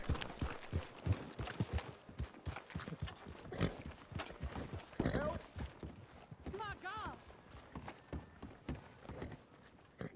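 Horse hooves clop along in a steady rhythm beneath people talking in the video game Red Dead Redemption 2, with a short whinny-like call partway through.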